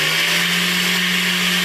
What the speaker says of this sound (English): we're running this in one direction, the drill in another direction, and we're going to just file that right down till we get a point